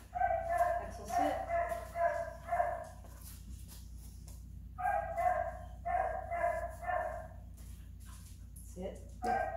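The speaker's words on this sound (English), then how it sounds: "he has the dogs barking in the other room" Dogs bark from another room during an indoor obedience training session, bursts of repeated barks in two clusters separated by a short lull, somewhat muffled and distant.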